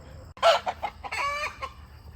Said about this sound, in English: I heard the chickens go off, and this is why.